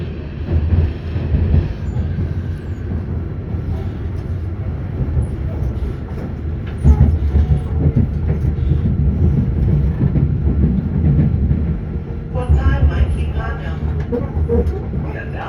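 Auckland Transport AM class electric train running between stations in Auckland, a steady rumble with rattles and rail noise, with an interior voice speaking quietly over the ride at times.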